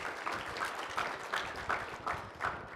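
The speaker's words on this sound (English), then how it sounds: "So round of applause for Mr." Faint, distant audience applause at a Weslaco High School Boys & Girls State proclamation event, honoring Mr. Garza, a soft steady patter of clapping with small swells.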